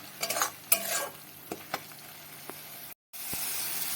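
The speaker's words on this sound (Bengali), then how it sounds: "আবারও এই পেস্টটা বেশ কিছু সময় ধরে কষাতে হবে, যতক্ষণ না পর্যন্ত এই মশলা থেকে তেল ছেড়ে যায়।" A spice paste for a prawn dish is stirred and fried in oil in a pan. Soft, low sizzling runs under a few distinct scraping strokes of the spoon, with a brief silent gap near the end.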